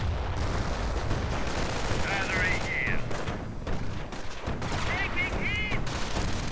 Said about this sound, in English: Lots of Nebelwerfer fire.